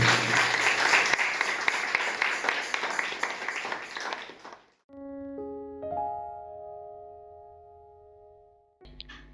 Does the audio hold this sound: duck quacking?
no